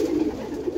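Roller pigeons coo softly inside a crowded coop, a brief low continuous murmur without speech.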